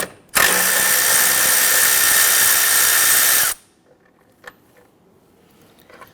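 A cordless power tool or ratchet spins steadily for about three seconds, loosening a 10mm air box bolt on a 2017-2020 Hyundai Elantra 2.0L, followed by quiet clicks and small metallic handling noises.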